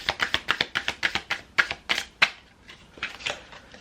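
Tarot cards shuffled by hand in quick bursts, a rapid series of crisp papery riffles and taps close to the microphone, pausing briefly and then resuming.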